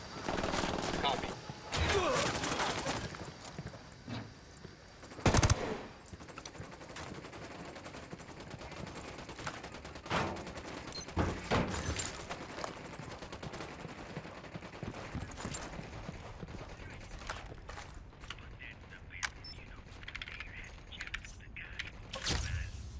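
Gunfire in the video game Ghost Recon Wildlands, with bursts of shots and sharp cracks scattered across a busy stretch of game sound, and brief voices heard now and then.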